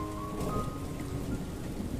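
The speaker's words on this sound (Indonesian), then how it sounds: "suara tetesan hujan yang seolah menjadi terapi ketenangan" Rain falls steadily in a constant hiss of drops on surfaces, with a low rumbling undertone beneath it and no voices.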